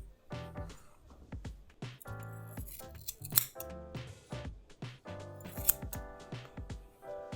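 Scissors snip through hair at close range during a home mullet haircut, a steady run of quick crisp cuts in clusters with brief pauses between, no voices.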